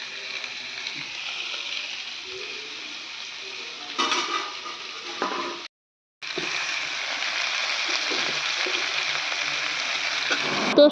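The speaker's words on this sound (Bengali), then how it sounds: "তো সমস্ত সবজিগুলো দিয়ে দিলাম আর খুব ভালোভাবে নেড়ে নিলাম।" Mixed vegetables sizzle and fry in hot oil seasoned with panch phoron, bay leaf and dried red chilli, stirred steadily with a brief clatter of utensils and a short pause midway, a close, continuous hiss without talk.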